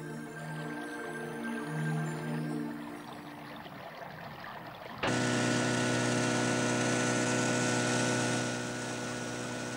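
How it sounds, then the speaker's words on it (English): Outboard motor on a boat carrying a traditional hunter in the Canadian north during the caribou migration. A steady engine drone rises abruptly partway through to a louder, harsher whine that holds to the end. "An outboard motor is not a traditional Indian sound."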